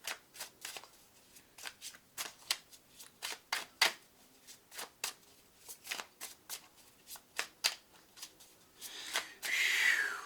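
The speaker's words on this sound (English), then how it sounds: "once I deal these cards" Tarot cards being shuffled and dealt, close and quiet, a steady series of crisp flicks and riffles with a brief burst of rustling shuffling at the end.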